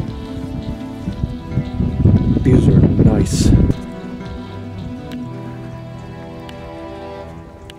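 A sudden marble-sized hailstorm, with a loud rattling burst of stones pelting the surfaces for about two seconds before a quieter steady hum, and a voice speaking briefly.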